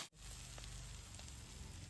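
Crabs frying in a pan over a traditional clay stove in a village kitchen, giving a steady, close hiss and crackle of hot oil that continues evenly throughout, with no talk.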